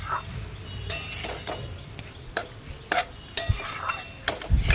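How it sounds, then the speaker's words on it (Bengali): Radish chechki with prawns stirred in a pan once the lid is lifted, a spatula scraping and clinking against the metal in uneven strokes over a faint simmer, without speech. "তো এবার ঢাকনাটাকে তুলে একটু চলো নাড়িয়ে নিচ্ছি।"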